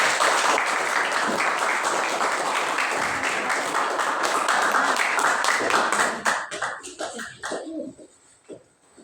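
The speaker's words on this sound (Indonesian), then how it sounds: "Oke, kita tepuk tangan." A class claps for a student after a presentation, a lively burst of many hands filling the classroom for about six seconds, then thinning into scattered claps and fading, with some voices.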